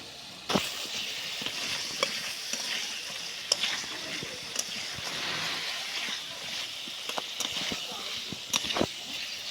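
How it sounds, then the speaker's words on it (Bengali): Potato and pointed gourd fry in hot oil with salt and spices. A continuous sizzle sounds close by, broken by sharp scrapes and clacks as the pieces are stirred around the pan, and no one speaks. "সুন্দর করে আলু পটলটা ভাজে নিচ্ছি"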